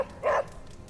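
Charlie, a dog in the video game Midnight Suns, gives a single short, bright bark, close and clear over a quiet background.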